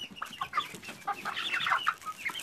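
Nine-week-old chicks cluck and peep in a busy, continuous flurry of short calls, close by and fairly soft, with overlapping voices from several birds and no talk.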